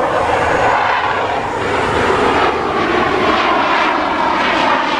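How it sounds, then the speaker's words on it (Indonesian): Loud, steady engine roar of a rocket plane, a continuous droning rumble that holds at the same level throughout, close and dominant with no voices. "Wadidaw, ini pesawat roket."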